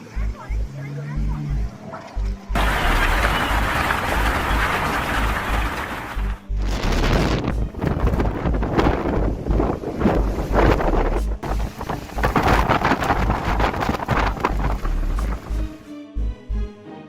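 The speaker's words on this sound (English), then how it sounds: "Cyclone Fani struck Odisha, India, with winds reaching up to 200 mph" Cyclone Fani's storm winds in Odisha, India, roaring loudly and steadily for most of the stretch in heavy buffeting gusts that blast the microphone, with brief lulls near the start and end and voices faintly in the mix.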